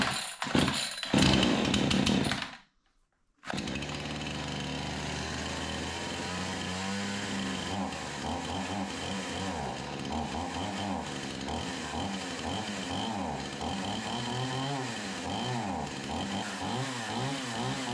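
A Troy-Bilt TB4620C 46cc chainsaw with a 20-inch bar and no air cleaner revs loudly, drops into a near-silent gap, then idles and rasps unevenly with wavering pitch, up close.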